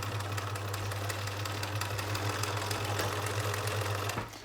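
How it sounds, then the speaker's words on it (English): A sewing machine runs steadily with a fast mechanical whir and rapid ticking, then stops abruptly near the end. "it's a great sewing machine"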